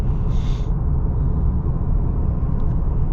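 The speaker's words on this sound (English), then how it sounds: "So we're really only doing 45 right now, and the tire noise is already, you know, it's there." Steady low tire and road rumble heard from inside a 2025 Nissan Pathfinder Rock Creek cruising at 45 mph, a constant dull roar filling the cabin with no talking.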